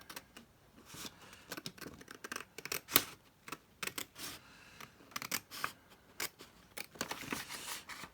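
Scissors snipping through folder card panels and tea-dyed paper, a run of short crisp cuts in irregular bursts, close and fairly quiet, with no talking.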